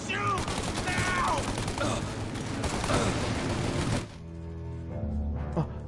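Rapid bursts of gunfire ring out in a shootout in the Mafia video game, overlapping and continuous for about four seconds before easing off. A voice talks faintly beneath it.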